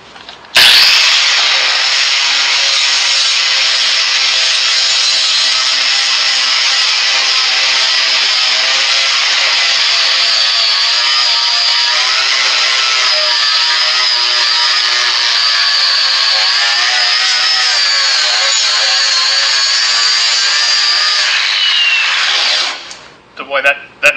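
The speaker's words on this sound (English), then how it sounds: "Boy, that nice 40 grit, that takes it off really quick." Angle grinder with a 40 grit flap disc grinding metal, a loud, sustained high-pitched whine that holds steady for over twenty seconds before spinning down, close up with no talk.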